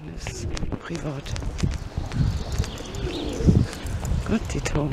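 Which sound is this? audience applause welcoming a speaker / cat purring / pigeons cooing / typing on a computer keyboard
pigeons cooing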